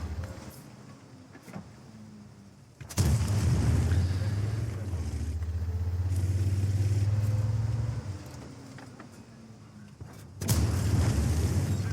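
A loud, booming tank cannon shot in the video game World of Tanks (CS-52 Lis), followed by a sustained low engine rumble and then a second heavy blast near the end.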